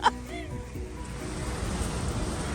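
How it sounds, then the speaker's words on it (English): Waterfall at the end of the Nugget Trail in Juneau, a steady rushing roar of falling water heard nearby, after a brief faint chirp at the start. "That's the waterfall at the end of the Nugget Trail."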